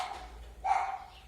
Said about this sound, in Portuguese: Desculpa aí o barulho do cachorro, da maritaca